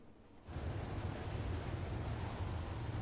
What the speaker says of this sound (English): It's violently windy.